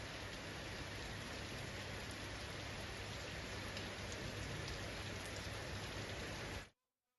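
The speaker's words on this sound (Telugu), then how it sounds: "నగరంలోని అనేక ప్రాంతాల్లో రాత్రి నుంచి జోరుగా వాన కురుస్తోంది" Heavy, unbroken rain pours across Hyderabad, a dense, steady roar of drops on roads and surfaces that holds loud and even before cutting off abruptly.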